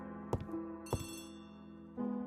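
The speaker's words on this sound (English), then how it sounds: "The phone is ringing." Old-style telephone bell ringing in a stage or audio drama of Agatha Christie's The ABC Murders, sharp bursts recurring in a spaced pattern, close and clear with no talk over it.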